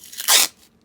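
A strip of masking tape is ripped off in a cold garage, giving one short, sharp tearing crackle that fades quickly in a quiet room.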